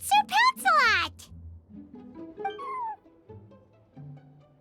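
A cat in the Genshin Impact video game gives a few sharp, rising meows up front, then quieter mewing cries follow, with speech-like game voices mixed in.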